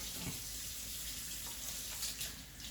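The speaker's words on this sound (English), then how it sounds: "Let me wash my hands again." Tap water runs steadily into a kitchen sink while hands are washed during salmon prep, a constant close hiss of flowing water with slight splashing variations and no talking.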